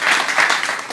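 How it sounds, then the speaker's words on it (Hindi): Audience applauding in a hall during a talk about Osho, a steady wash of many hands clapping that holds evenly for about a second. "तालियां"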